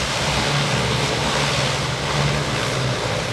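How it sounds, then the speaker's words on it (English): A loud, steady roar of a Grumman OV-1 Mohawk's propeller engines with propellers in reverse at an airshow, a dense rushing drone with a low throbbing hum underneath. "Kicks the propellers into reverse."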